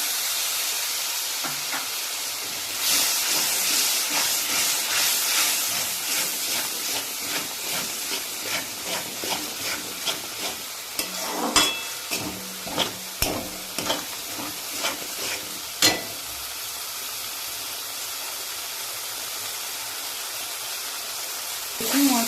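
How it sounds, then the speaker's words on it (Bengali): Spice paste for a bhetki fish curry sizzles and hisses in hot oil, with a spoon scraping and stirring the pan in a steady run of sharp taps that build and then fade back to a continuous fry. "এবার গা দিয়ে তেল ছাড়ছে মানে মশলা রেডি হয়ে গেছে"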